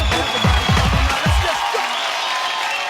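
Applause from a comedy show studio audience rises under a few deep, booming musical hits, then settles into an even wash of clapping.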